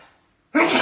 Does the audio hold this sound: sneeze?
yes